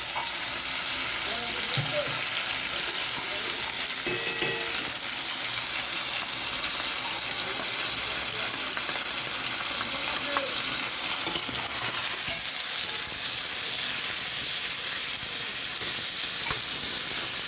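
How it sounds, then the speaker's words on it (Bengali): Ginger and garlic sautéing in oil for a home-style chicken curry: a continuous dense sizzle with occasional spatula scrapes and small liquid splashes, steady and close, with no one speaking. "হালকা আদা রসুন দিয়ে আমি ভেজে নিয়েছি, হালকা হালকা কষা হচ্ছে।"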